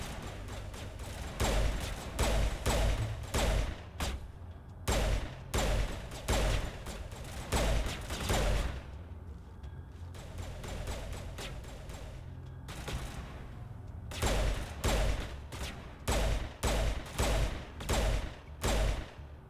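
Sustained gunfire in the sci-fi shooter Mass Effect, dense bursts of rapid shots in a rhythmic stop-start pattern across the whole span, loud and close, with brief pauses between volleys.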